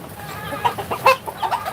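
Bantam hens kept on the bottom floor of a coop, giving a few short, close clucks in quick succession against a quiet background.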